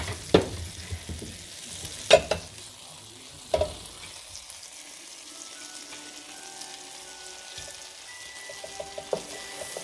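Butter and bread stuffing sizzle quietly in a pan while a utensil stirs it, with several distinct scrapes and knocks at irregular intervals and no talking.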